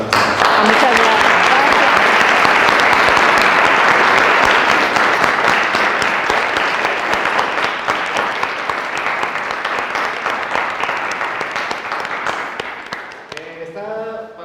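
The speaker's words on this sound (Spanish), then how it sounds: "le pido a todos los asistentes un fuerte aplauso para nosotros" An audience at a herbal medicine book presentation breaks into loud, sustained applause, a thick wash of clapping that slowly thins toward the end, where a voice starts speaking.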